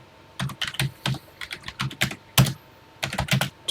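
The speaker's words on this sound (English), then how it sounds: "And let's get typing." Rapid typing on a computer keyboard while entering TI Basic program lines in the Classic 99 TI-99/4A emulator, close and clear, with bursts of keystrokes separated by short pauses and no voices.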